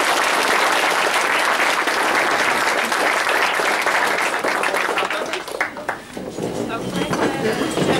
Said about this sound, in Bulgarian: И аплодисменти за всички.